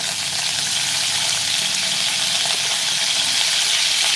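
Washed cauliflower florets fry in hot oil, a dense, even hiss of sizzling that stays loud and steady throughout with faint crackles and stirring underneath.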